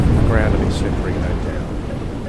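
Heavy rain and a deep thunder rumble in the video game Atom Zombie Smasher, a loud low roar that fades slowly with faint chirpy game effects over it.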